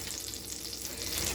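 Chicken fried steak sizzles and crackles steadily in hot oil in a home frying pan, a continuous close, bright frying hiss with no talking.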